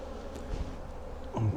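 Honey bees buzz softly around an open hive during queen cell removal, a faint, steady insect hum with a brief louder swell near the end.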